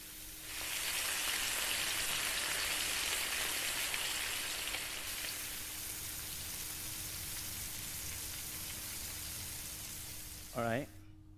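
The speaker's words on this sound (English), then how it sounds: "I've added the sound of bacon frying" Continuous crackling sizzle of bacon frying in a pan, loud at first then settling, with a short clatter near the end.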